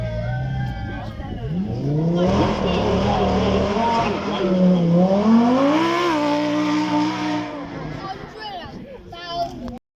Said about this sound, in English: That nose pointing towards the sky as that V10 kicks in.